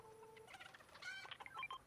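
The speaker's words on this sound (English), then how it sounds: "Chicken." Chicken clucking in the video game Fortnite, a short run of quick, bright clucks in the second half, fairly faint and heard alone after a steady tonal game hum.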